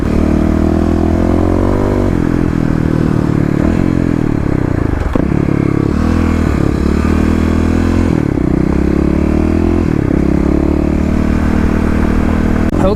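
A Kawasaki KLX351 EFI dirt bike rips along an off-road trail, its engine loud and close, revving up and down throughout with clattering and scraping from the terrain.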